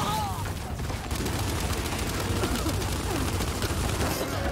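Sustained automatic gunfire from combat in the video game Gears 5 (Hivebusters DLC), dense and continuous bursts filling the whole stretch at steady loudness.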